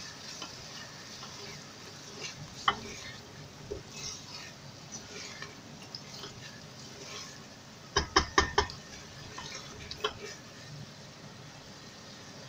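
Beef polao with spice paste and a little water sizzles quietly in a pot while a spoon scrapes and clatters in short bursts of stirring, with a cluster of knocks midway.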